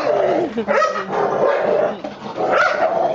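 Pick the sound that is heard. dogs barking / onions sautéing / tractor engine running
dogs barking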